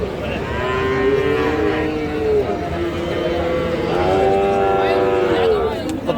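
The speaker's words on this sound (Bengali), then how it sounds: "আর এটা একটা স্পটে ভরপুর গরু" Cattle moo in long, drawn-out calls at a busy rural livestock market (hat) in Dinajpur, with two drawn-out bellows rising over steady crowd noise and faint voices.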